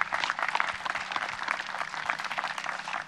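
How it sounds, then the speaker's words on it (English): Audience applause rings out at an outdoor skatepark groundbreaking ceremony, a steady, dense wash of many hands clapping, moderately distant and continuous, with no voices over it. "everybody that's been involved with this project deserves a large round of applause"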